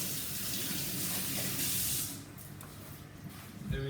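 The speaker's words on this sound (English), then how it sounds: "we're gonna wash our hands now" Kitchen tap water running as hands are washed at home, a steady hissing spray that drops off near the end into a quieter trickle and small clatter.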